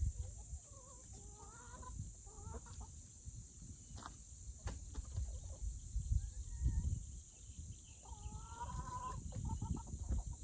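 Chickens clucking near nesting boxes in a backyard coop, giving several short rising calls scattered over a steady high insect buzz and low rustling, moderately close and faint.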